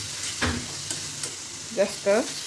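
A coconut and jaggery filling is stirred in a pan and sizzles steadily, with a few scraping strokes of the spoon close up and a faint bit of talk in the background.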